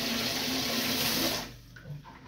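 A toilet being unclogged flushes with loud, steady rushing water at close range, then drops away into a quieter gurgling trickle.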